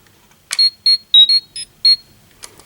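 A short electronic chirping sequence of quick high beeps from a toy Power Morpher communicator, in an uneven rhythm, bracketed by soft clicks, clear and close.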